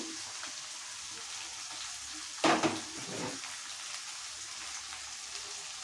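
Onions and fried bhetki fish bones sizzle softly in a pan, a faint steady crackle with one brief louder clatter partway through.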